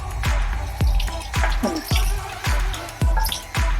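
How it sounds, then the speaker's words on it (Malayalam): Water splashing and dripping while a scrubbed, soot-blackened cooking vessel is rinsed, loud and close, with repeated sharp knocks and splashes about every half second over a running trickle. "നമുക്കിതിൽ നിന്ന് കഴുകി നോക്കാം."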